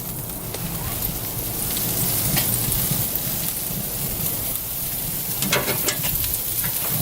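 Oxtails sizzle and crackle while cooking unwrapped on a smoker grill, a steady dense rain-like hiss with occasional sharper pops, close and continuous without speech.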